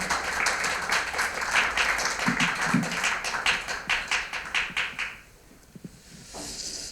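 A room of people applauds the pastors who presented at a Korean church seminar on ecological justice, war and the climate crisis, with brisk, rhythmic clapping for about five seconds that then fades to quiet.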